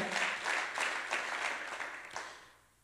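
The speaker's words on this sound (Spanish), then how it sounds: "denle un aplauso al Señor" Church congregation applauding the Lord during a Spanish sermon, with a burst of clapping in loose pulses that fades away over a few seconds.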